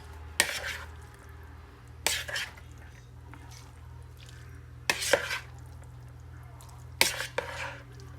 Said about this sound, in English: in a separate bowl, we're going to mix the sauce and everything that goes with it